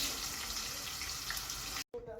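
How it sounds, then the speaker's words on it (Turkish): Peppers fry in a pan on a home stove with a steady, loud, close sizzle and hiss that cuts off briefly near the end before resuming. "Az bir şeyler biber kızartıyorum."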